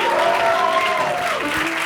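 An audience at a comedy show applauds in a brief, dense burst of clapping, while a voice carries over the top.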